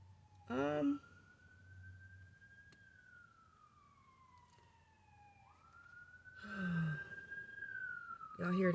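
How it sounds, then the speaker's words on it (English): A single wailing siren rises and falls slowly in the distance, steady under the scene while someone talks briefly near the start and again toward the end. "Y'all hear that siren?"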